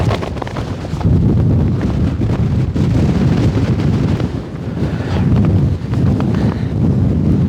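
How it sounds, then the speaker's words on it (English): Strong wind buffets the microphone on a mountaintop in Guatemala, a loud continuous low roar rising and falling in gusts with no talk. "My God, it's windy. It is super windy."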